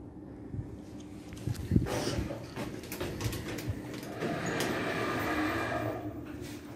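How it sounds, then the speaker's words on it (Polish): A service elevator car in the Galeria Katowicka shopping mall in Katowice travels upward with a steady mechanical rumble and hum, plus occasional knocks and rattles from the cabin, with no talking. "Kabina jedzie w górę."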